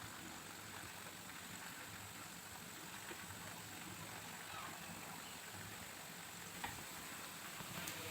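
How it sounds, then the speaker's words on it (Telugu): Potato snack pieces frying in hot oil, turned gently with a small fork, give a steady, even sizzle that stays level and continuous throughout, with no talking. "ఇలా ఆయిల్లో వేసాక చిన్న ఫోర్క్ పట్టుకుని నెమ్మదిగా టర్న్ చేసుకుంటూ ఇది మంచి కలర్ వచ్చే వరకు ఫ్రై చేసుకోవాలి"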